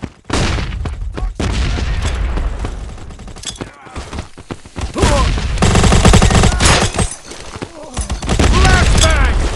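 A flashbang grenade goes off amid dense gunfire in the shooter game Modern Ops. Loud, continuous bursts and booms fill the mix, with shouting voices mixed in.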